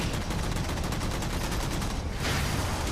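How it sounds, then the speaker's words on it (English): Enemy weapons fire in rapid, dense bursts during a Halo 4 campaign battle, with loud, continuous gunfire that briefly dips before surging again. "notice I'm taking fire from 2 different directions here"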